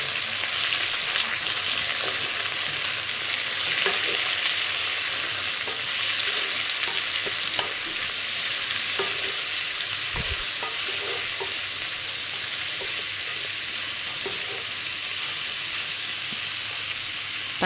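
Salt and turmeric powder being sautéed in a pan for a chicken dish, giving a steady, close frying sizzle with soft stirring scrapes and small clicks throughout, no voices.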